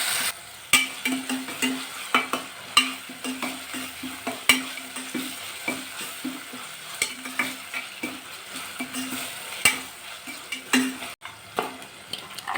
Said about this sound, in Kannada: ಟೊಮೆಟೊನ ಹಾಕಿ ಫ್ರೈ ಮಾಡ್ಕೊಳ್ಳೋಣ.